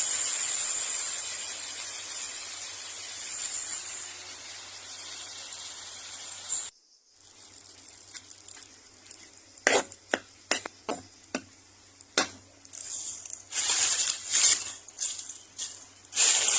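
Red amaranth and stem greens frying in a pan at home, a steady sizzle hissing for several seconds, then a pause followed by a run of short scraping stirs and clatters against the pan.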